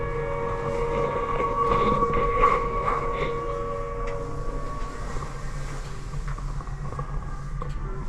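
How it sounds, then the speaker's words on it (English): An air raid shelter alarm sounds inside a bunker at the M Shed museum in Bristol, a sustained wailing siren tone heard from a distance over a steady low hum, with no talk. "Air raid shelter alarm."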